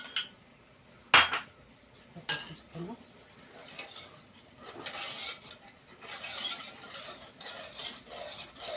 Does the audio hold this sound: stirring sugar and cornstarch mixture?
yes